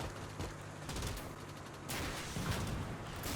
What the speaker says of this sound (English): Oh, that machine gun.